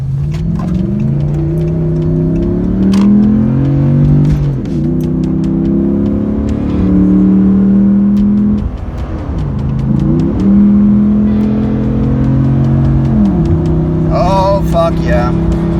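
A 2013 Ram truck with a 5.7L HEMI V8 and a performance tuner accelerating hard up a freeway on-ramp, the loud engine note climbing through the rpm range and dropping sharply at each of several gear shifts, with a person talking at times.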